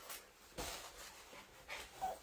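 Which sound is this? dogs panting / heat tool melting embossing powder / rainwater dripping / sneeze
dogs panting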